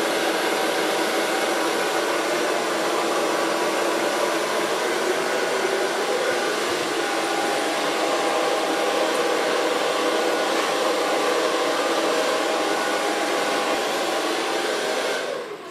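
A hair dryer blows steadily and loudly at close range while a bob haircut is being blow-dried, a continuous broadband whoosh that runs the whole time with no talking.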